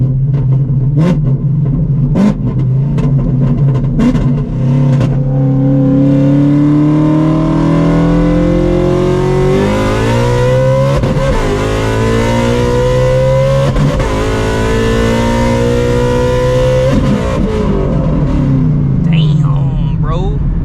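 An ESS G3R supercharged Shelby GT350 accelerates hard in second gear, its engine roaring loud and close with a rising, revving pitch that climbs steadily, dips briefly at about the midpoint, then surges again before easing off near the end.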